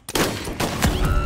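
Video game gunfire during a dark hide-and-seek match: a quick volley of several loud, close shots fired in rapid succession, filling the short stretch.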